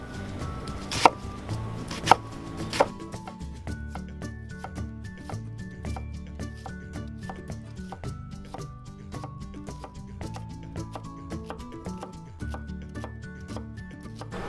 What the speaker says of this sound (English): we're going to dice this onion